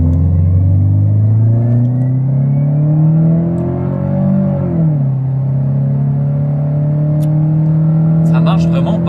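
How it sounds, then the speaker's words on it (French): A Citroën Xsara with an automatic gearbox pulls away from a standstill, its engine droning loud and close. The pitch climbs steadily, drops at a gear change, then settles into a steady hum, with faint clicks near the end. "Je relâche le frein et j'accélère."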